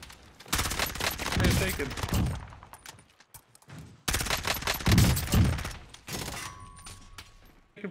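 Gunfire from the Call of Duty Warzone video game comes in loud, dense bursts of rapid shots, with breaks between volleys, while players talk excitedly over it.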